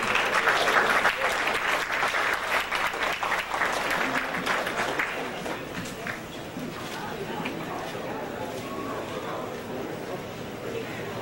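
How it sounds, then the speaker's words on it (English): Round of applause from an audience for Dr. Sebi at a Hebrew Israelites Soul Vegetarian gathering in Atlanta, dense loud clapping at first that gradually thins and fades, with some voices underneath. "Let's give Dr. Sebi another round of applause."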